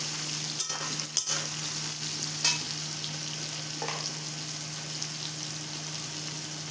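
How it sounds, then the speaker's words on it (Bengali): Washed soybean chunks frying in a pan make a continuous dense sizzle, with a couple of sharp spatula clacks early on and a low steady hum underneath. "দিয়ে আমি ভালোভাবে ভেজে নেব সয়াবিনটাকে লাল লাল করে"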